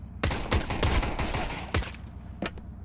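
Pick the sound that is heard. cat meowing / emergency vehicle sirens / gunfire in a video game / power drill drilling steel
gunfire in a video game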